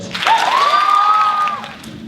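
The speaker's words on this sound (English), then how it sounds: "let's hear a nice round of applause for Lori Britt." An audience applauds steadily at a 2015 Poetry Out Loud recitation contest, a fairly loud, even wash of clapping with a high sustained whistle-like tone running through the middle.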